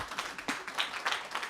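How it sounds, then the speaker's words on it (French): A peace day celebration audience applauds President Jeff with a burst of uneven, fairly close clapping that rises and falls in waves over a few seconds. "Est-ce qu'on peut applaudir le président Jeff?"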